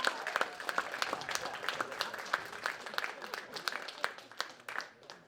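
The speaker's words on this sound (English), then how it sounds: "So let's give another round of applause for the interns." Audience applause for interns at a screening event, a modest crowd clapping with distinct individual claps audible, fairly faint and irregular, tapering off at the end.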